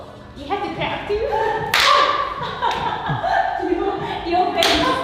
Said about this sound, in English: You have to clap too.